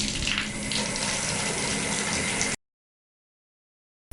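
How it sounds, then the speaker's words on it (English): Water from a shower sprays in a steady, loud rush, then cuts off abruptly into silence. "I'm going to take a shower."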